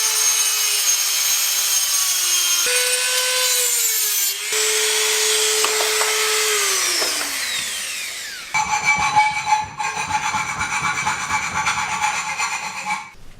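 A power tool cuts the center out of a steel bike sprocket with a loud, continuous high grinding whine whose pitch shifts as the blade works through the metal, then turns rougher and more ragged near the end.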